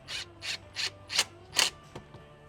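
Impact wrench seating lug nuts on a wheel, heard as five or six short bursts of rattling hammering in a quick regular rhythm, close and fairly quiet with no talk.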